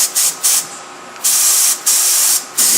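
A spray gun fed with atomizing air gives repeated loud hissing bursts during a test spray, with several short trigger pulls and brief gaps between them.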